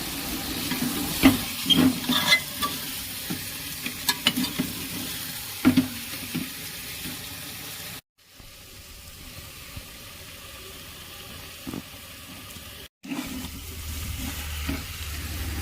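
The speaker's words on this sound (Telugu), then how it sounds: "ఇక వచ్చేసి మనం మ్యారినేట్ చేసుకున్న చికెన్ని ఇందులో వేసేసుకోవాలి" Marinated chicken frying in biryani gravy in a pot, stirred with a spoon that clanks and scrapes repeatedly over a constant sizzling hiss, close by, briefly cut by two short silences, with no talking.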